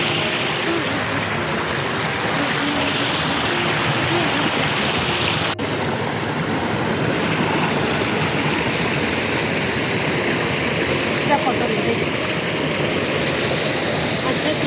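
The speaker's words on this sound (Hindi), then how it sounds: "छोटे झरना, चलो झरना बोल सकते हैं या नदी बोल सकते हैं" Small waterfall on a river rushes in a steady, loud wash throughout, with a faint engine-like hum beneath and a few voices breaking in over the water.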